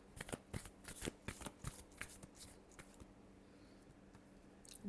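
Tarot cards being shuffled close by, a quick run of crisp riffling and snapping bursts that thin out into softer handling and then quiet, with no voices.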